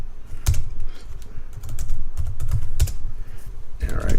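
Keys clatter on a computer keyboard while commands are typed into a Cisco router setup, producing irregular bursts of close, crisp clicks and tapping with brief pauses between runs, no voices present.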